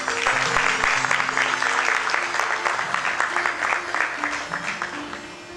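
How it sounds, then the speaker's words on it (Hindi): A crowd applauds steadily, dense clapping filling the room, with a few faint voices and a low musical tone underneath, tapering slightly toward the end. "इन के लिए बहुत सारी दुआएं और बहुत सारी तालियां।"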